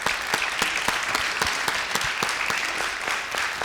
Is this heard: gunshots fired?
no